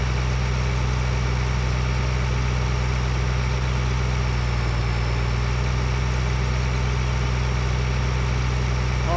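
A tractor engine idles steadily in the Farming Simulator 2013 game, a constant low, droning rumble with an even hum that holds unchanged throughout.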